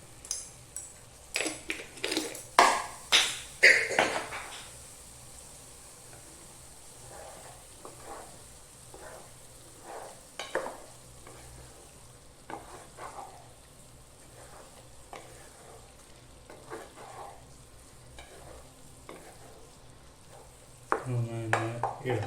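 Soya roast fried in a pan and stirred, with a scattered run of scraping stirs and light sizzle bursts near the start, then quieter intermittent clinks and scrapes, ending in a louder sizzle as more goes into the pan.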